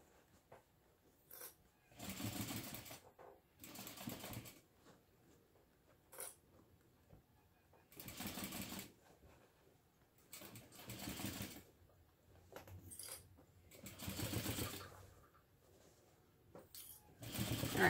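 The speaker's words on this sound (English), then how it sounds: "when you get back around to where you started sewing, you'll just back stitch to secure" A sewing machine stitches a seam on a fabric bag in several short, rapid whirring bursts separated by quiet pauses, close and fairly soft.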